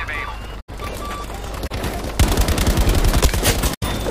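Gunfire in the Battlefield video game chaos: a dense burst of rapid automatic fire in the second half, preceded by steadier background battle noise, loud and close with brief dropouts.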